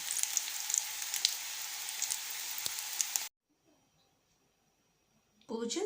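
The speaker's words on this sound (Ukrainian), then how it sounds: "Тоді викладаю котлети на розігріту пательню з олією і обсмажую з двох сторін." Cutlets fry in hot oil in a pan with a steady, close crackling sizzle for about three seconds, then the sound cuts to near silence before a burst of noise returns at the end.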